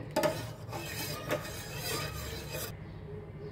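A spoon scraping and stirring sugar in a pot while making misti doi, a few quiet rasping strokes with faint metallic clinks, close and soft, no talking.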